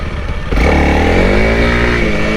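A Honda CRF300L dirt bike fitted with KTech suspension revs hard to lift into a wheelie, a loud, close, steady engine roar building after a brief quieter idle.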